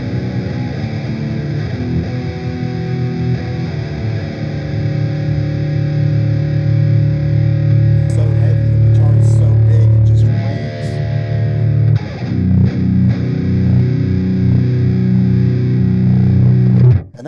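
Electric guitar with EMG pickups played through heavy distortion, loud and alone, with sustained low chords and riffs running throughout and a brief break near the end.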